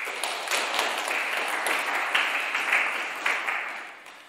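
An audience claps at the opening of a photography festival held by a local arts and crafts association, a fairly soft, even patter of many hands that gradually fades out.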